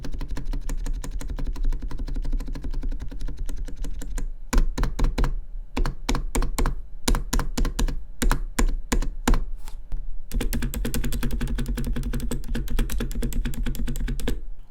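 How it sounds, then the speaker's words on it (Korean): A mechanical keyboard with Cherry-style stabilizers is typed on right next to the microphone. Dense rapid clacking runs for a while, then stops for a run of slower, separate thocks, then fast steady typing comes back. "마이크 가까이에서 좌십을 때려보겠습니다"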